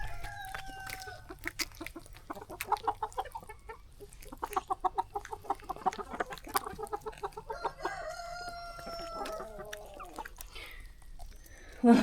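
Hens cluck in a busy, irregular stream of short calls, with a few longer drawn-out squawks near the end; close and fairly loud.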